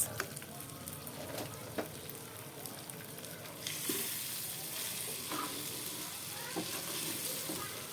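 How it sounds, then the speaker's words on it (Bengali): Rice frying with spices, cinnamon and cardamom in a pan for pulao, a continuous close sizzle with occasional stirring scrapes and utensil taps throughout. "এই যে আমি মশলার মধ্যে এখন চালগুলো দিয়ে দিয়েছি। এখন এটা সুন্দর করে কষাবো কিছুটা সময়।"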